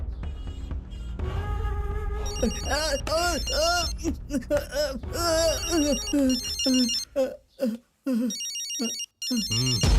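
A phone ringtone plays a melodic, repeating tune, loud and close, with brief gaps near the end as it keeps ringing.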